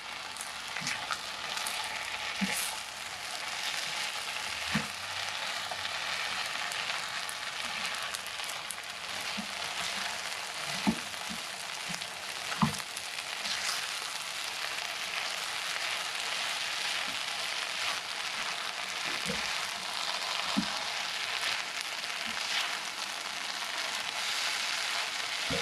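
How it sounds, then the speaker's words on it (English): Meat frying with rice for Hawaiian fried rice, a continuous hissing sizzle at moderate level with sparse soft knocks as everything is mixed in the pan. "then you throw in the meat. You mix everything in."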